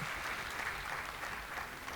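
An audience at a comedy show claps for a music manager, a dense, steady wash of applause from many hands that holds evenly throughout at moderate distance, with no voices standing out.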